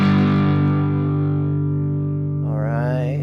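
An electric guitar rings out through the JCM 800 amp model of a Mooer SD30i portable practice amp, giving one sustained distorted chord that decays, with a brief wavering bend near the end.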